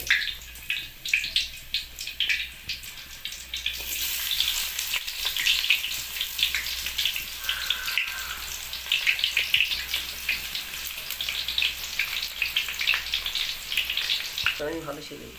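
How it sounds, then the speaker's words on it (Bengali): Onions hit hot oil in a pan for a soybean dish, giving a loud, continuous crackling sizzle with bursts of spattering and occasional utensil knocks throughout. "আমাদের অয়েল গরম হয়ে গেছে, পেঁয়াজ দেওয়া হচ্ছে।"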